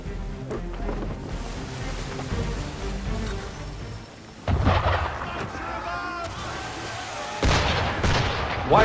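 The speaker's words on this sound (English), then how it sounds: "Why is he shooting at us?" Ship's cannons firing at sea in Assassin's Creed III, a sequence of heavy booming blasts with rumbling ocean ambience, loudest bursts around the middle and near the end, with some voices mixed in.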